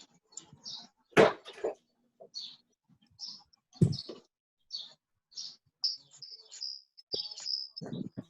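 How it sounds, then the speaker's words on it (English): Short, sharp bird chirps repeat in scattered bursts against near silence, interrupted by a few louder thumps and clatters, with soft voices briefly heard. "Oh, yeah, birds."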